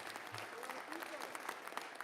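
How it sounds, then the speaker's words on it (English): Applause from an audience at a press conference, a faint, brief patter of clapping heard at a distance. "Applause is great."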